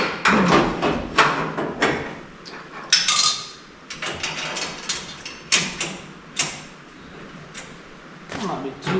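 Exhaust band being fitted with a bolt on a teardrop exhaust, a string of irregular metallic clanks, taps and scrapes at close range, with pauses between the knocks.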